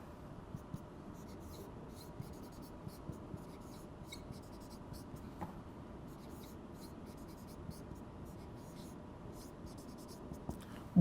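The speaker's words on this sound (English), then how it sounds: "Let's write that down." Chalk or marker writing an answer on a board in a maths lesson, faint steady scratching strokes with small taps, quiet and close with no talk over it.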